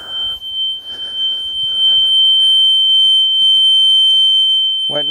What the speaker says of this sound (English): Won't reset, probably because that smoke alarm's just constantly going off.